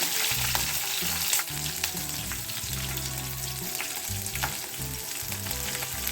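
Chopped green chilies sputter in hot oil for a cluster bean chutney, a dense, steady crackling sizzle close by with a low tonal backing underneath and no talk.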